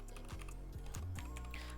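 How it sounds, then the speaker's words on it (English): Quick, soft keystrokes tap on a computer keyboard at a steady pace, close and clear over a faint electronic hum, with no talking. "we're now going to be typing our workshop's ID"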